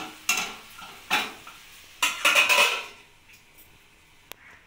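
Hilsa fish head curry with ash gourd stirred in a pan, a few distinct scraping strokes of a spoon against metal over a soft sizzle, then quieter with a final light tap.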